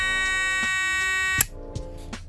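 With the stop switch flipped, an Otis elevator alarm buzzer gives a steady, close electric drone for over a second. It then cuts off, leaving a few faint clicks and ticks.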